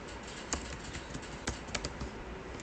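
Someone types on a computer keyboard while making PowerPoint slides, with quick irregular key clicks and a few sharper taps, close and alone.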